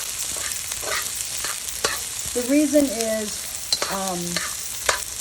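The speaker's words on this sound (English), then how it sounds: "the carrots you're going to stir fry for about 2 to 3 minutes" Carrots stir-frying in a hot wok with garlic and shallots give a steady, close sizzle and crackle, and a few short spoken words come through over it.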